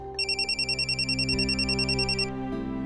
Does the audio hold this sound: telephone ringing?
yes